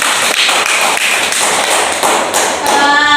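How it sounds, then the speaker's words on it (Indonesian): A classroom audience applauds a presenting group, a dense, steady burst of many hands clapping close by for a few seconds, without talk. "Berikan aplaus untuk kelompok 2 dulu."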